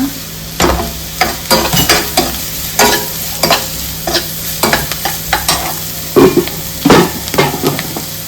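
Samosa filling with onion frying and being stirred in a pan, with repeated scraping spoon strokes over a steady sizzle, close and fairly loud, no talking.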